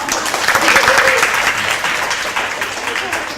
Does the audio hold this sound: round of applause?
yes